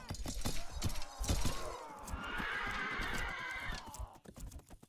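Horses whinny amid clashing melee combat in the real-time strategy game 0 A.D., a drawn-out neigh rising over a busy mix of impacts, hoofbeats and breaking sounds at moderate volume.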